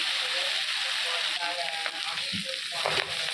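Noted shak leafy greens sautéing in a pan give a steady, close hiss of frying, with light scrapes of stirring scattered through and no talking.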